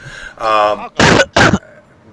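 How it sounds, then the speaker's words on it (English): A person nearby clears their throat and then gives two harsh, loud coughs in quick succession, close to the microphone. "I didn't like that sound of a cough"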